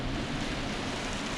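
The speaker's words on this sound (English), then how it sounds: "Absolutely pissing down." Heavy rain pours steadily onto a moored sailing boat on the Clarence River, a dense, continuous hiss with a low drumming undertone, loud and unbroken throughout.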